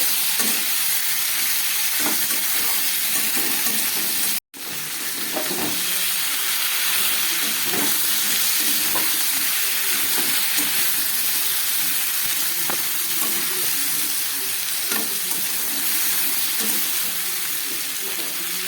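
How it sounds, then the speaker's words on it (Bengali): Ginger paste frying in a pan of fish curry with salt and turmeric: a steady, close sizzle with scattered stirring scrapes and one brief dropout partway through. "আর সঙ্গে দিয়ে দিচ্ছি এক চামচ আদা বাটা আবার একটু ভেজে নিই নুন হলুদ দিয়ে"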